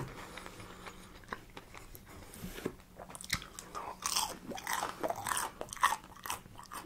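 Crispy fried chicken tenders are bitten and chewed close to the mic, giving loud crunchy bites and wet mastication with no talk.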